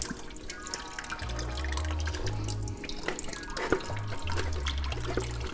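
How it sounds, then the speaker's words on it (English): Liquid draining from rinsed, salted and lime-soaked tripe for menudo into a sink, with a steady splashing and trickling water flow, close and continuous, with no talk. "I just want to drain this real quick."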